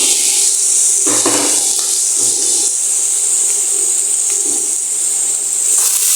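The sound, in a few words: lifting the lid off a pot of frying onions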